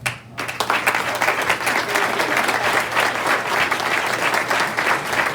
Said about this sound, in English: Could the family members of our honorees please stand up so we can give you a warm round of applause?